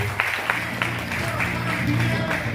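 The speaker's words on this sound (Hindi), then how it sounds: "तालियां होनी चाहिए इन सबके लिए" Applause from a seminar audience, rhythmic clapping and crowd noise under a low murmur of voices, moderately loud and continuous throughout.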